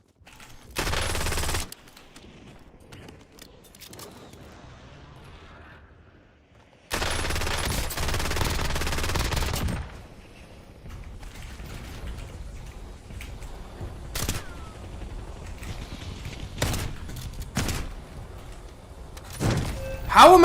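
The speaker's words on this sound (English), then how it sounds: "My shotguns didn't hit that guy at all." Shotgun blasts from a video game shootout come as sharp bursts, a loud one near the start, a long heavy stretch midway, then several short separate cracks spaced apart over quieter background sound.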